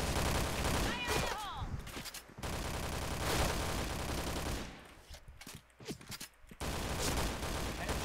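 Gunfire in the shooting video game Point Blank, with bursts of rapid automatic fire and overlapping shots that cut in and out, loud and close, while a player talks excitedly over the action.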